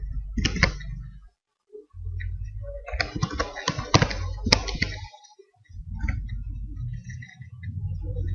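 Computer keyboard keys clatter in short bursts and pauses as a save command is typed, close and crisp, with a low steady hum filling the gaps and no speech.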